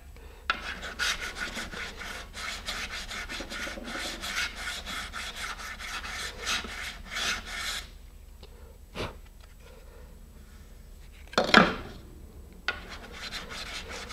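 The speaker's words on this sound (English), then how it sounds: "I've switched to the finer grit sandpaper" Fine grit sandpaper rubbing over fiberglass fillets on a Level-2 rocket kit, a close, rapid back-and-forth rasp for several seconds, then a quieter pause with a few isolated scrapes and one sharp louder stroke.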